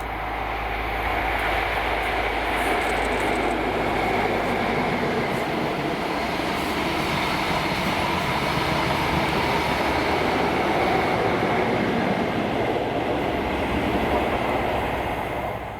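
The New Measurement Train 1Q26 passes at Newton, Scotland, a loud continuous roar of wheels and engine that holds steady for the whole stretch without any voices.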